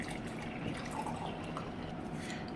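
Water pours into a portable electric travel kettle, a faint, steady trickle and fill that runs evenly for several seconds with no talk over it.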